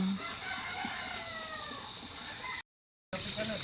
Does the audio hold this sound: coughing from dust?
no